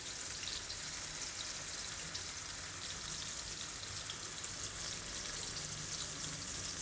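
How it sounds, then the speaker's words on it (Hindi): Chicken tikka pieces fry steadily in a pan over a low-medium flame for a Pakistani tandoori tikka karahi, giving a soft, even, continuous sizzle with no talking. "अब आपने इसको लो मीडियम फ्लेम पे फ्राई करना है ताकि ये अंदर तक सारा अच्छी तरह से फ्राई हो जाए"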